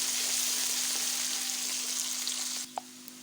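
Onions fry in hot oil for a pumpkin curry, giving a steady, fairly loud sizzling hiss over a low hum; the sizzle drops off sharply near the end, followed by one short clink.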